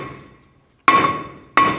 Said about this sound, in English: You can take a hammer and just hit in these locations.